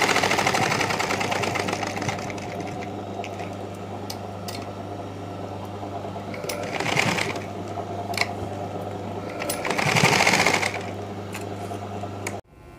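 Sewing machine stitching a blouse, with a continuous close mechanical whir and rapid needle chatter that swells briefly twice, then stops at the end, with no talking.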